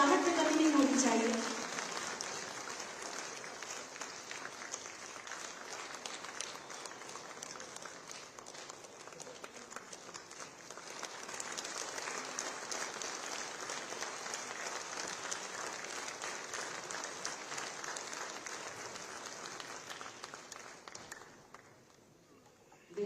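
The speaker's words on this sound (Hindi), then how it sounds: "तालियों की गड़गड़ाहट में कमी नहीं होनी चाहिए" Audience applause at a Lucknow event organised by Amar Ujala, with a crowd clapping steadily and loudly for about twenty seconds before fading at the end.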